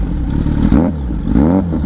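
A 2024 Kawasaki Z900 motorcycle engine revs loudly and close by, with two rising throttle blips over a steady, rumbling idle.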